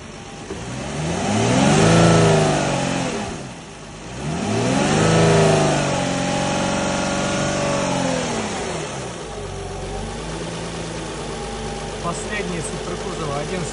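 Nissan Skyline HNV37 with a VQ35HR engine revving twice in strong rising-and-falling sweeps, then settling back to a steady idle hum; the engine is loud and close, with no voices.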